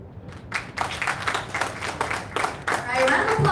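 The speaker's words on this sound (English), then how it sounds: "round of applause once again for Miss Nancy Gaw, everybody" Audience applause for Miss Nancy Gaw at a Miss World 2022 press conference in Manila, a burst of clapping that builds and swells louder toward the end, with voices mixed in.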